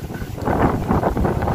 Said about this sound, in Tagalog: Hangin ngayon.